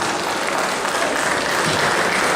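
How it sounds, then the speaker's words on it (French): Steady, dense applause from an audience at a manga and gaming convention stage event, loud and continuous for its whole length with no pause. "On peut l'applaudir bien fort, sa première scène également."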